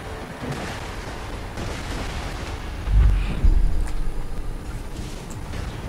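Grenade blasts from Merv grenades in the co-op shooter Borderlands 2, two heavy booming explosions close together midway through a steady rumble of game noise and gunfire, with no talking.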